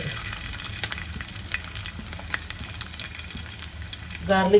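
Garlic frying in a little oil left in a pan, a dense, close crackling sizzle that holds steady, then swells briefly near the end.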